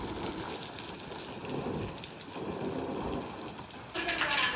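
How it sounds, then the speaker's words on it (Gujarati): Water overflowing from a full household water tank pours and splashes steadily, a continuous rain-like hiss that grows a little louder near the end. "જો ચોમાસાની જેમ અમારે ઘરે પાણી પડે છે"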